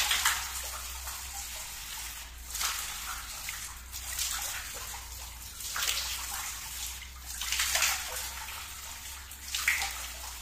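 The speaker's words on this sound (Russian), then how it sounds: "Но мы по традиции умываемся." Water from a newly drilled well splashes as someone washes their face outdoors, repeated scooping and splashing bursts coming every couple of seconds over a steady low hum.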